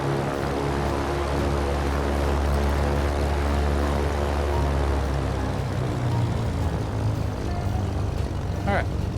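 A flight simulator aircraft cruising, its engine drone and propeller hum forming a steady loud unbroken roar that holds evenly throughout, with a voice talking over it.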